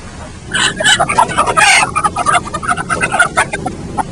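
Hens clucking in a confined poultry farm, a dense crowd of overlapping clucks and squawks close up, loud and continuous with no clear rhythm and no talking.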